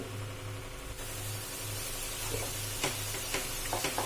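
Soaked flaxseed (aliv) mixture dropped into melted ghee sizzles and fries steadily, a close, continuous hiss with a few stirring clicks near the end.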